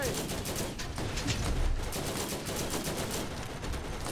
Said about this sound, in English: Oh god, they have another turret.